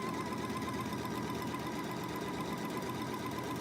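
Domestic sewing machine stitching a quilt seam onto gold fabric, a steady close whirring hum running continuously without pause.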